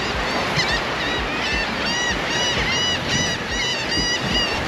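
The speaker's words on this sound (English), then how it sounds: "you're gonna hear a lot of birds yapping today." A dense chorus of honking, squawking birds at a bird sanctuary on a remote Florida island calls over and over, with the steady wash of surf or wind running underneath.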